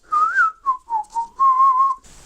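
A person whistles a lively tune in short melodic phrases, clear and close, with brief pauses between them.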